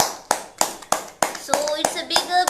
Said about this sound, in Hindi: सारे लोग तालियां बजाएं इन सभी लोगों के लिए